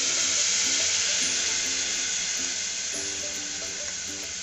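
Water pours steadily into a pan of Amritsari chole as it cooks, a continuous loud rush and sizzle with faint clinks underneath.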